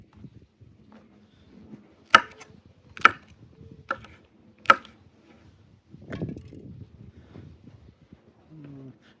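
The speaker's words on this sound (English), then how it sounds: "chilies in there. And again, I'm just going to chop them up real roughly" A knife chopping chilies roughly on a board, four sharp distinct knocks about a second apart, close and clear, followed by quieter scraping and handling sounds in an otherwise quiet room.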